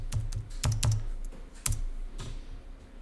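Typing on a computer keyboard, including a press of the Tab key: a close run of crisp plastic key clicks in an uneven rhythm, with no voices.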